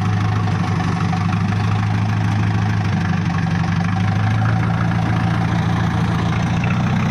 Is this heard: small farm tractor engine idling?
yes